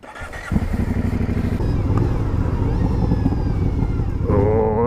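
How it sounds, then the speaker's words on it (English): A 2019 Aprilia Dorsoduro 900 motorcycle on its stock exhaust, starting up and settling into a loud, close, throbbing idle with a steady pulsing rhythm and a brief rev near the end. "Exhaust sound."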